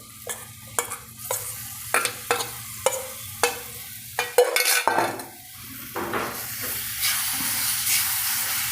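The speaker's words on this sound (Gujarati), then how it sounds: "હવે નાખી દઈશું આદું આમળા અને મરચાં વાટેલા" Ground ginger, amla and chillies for a Gujarati amla-chilli pickle are stirred in a pan with repeated scraping strokes at a regular beat, close up, over a low sizzle that continues after the stirring pauses.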